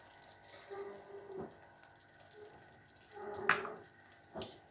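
Water is poured into a pan of frying semolina and sugar for halwa, coming in a few short splashing gushes against faint kitchen background noise.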